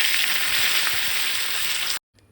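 Curry leaves hit hot oil already holding popped cumin, mustard seeds and dried red chillies for a dal curry tempering, giving a loud, dense, steady sizzle for about two seconds that stops abruptly, leaving near silence.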